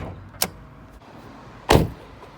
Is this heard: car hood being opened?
yes